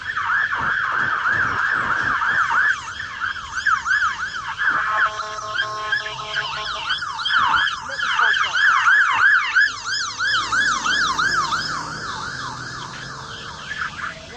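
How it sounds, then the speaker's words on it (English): Fire engine siren wailing in a fast, repeating up-and-down pattern, loud and close throughout, with a second siren tone layering in midway and some road noise underneath before it fades slightly at the end. "Let this fire engine go for."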